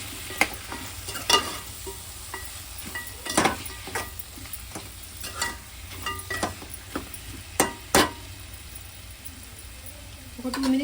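Kalakura pieces fry with coriander powder masala in a pan, a soft continuous sizzle broken by repeated scraping stirs and clinks of the spatula, close and moderately loud.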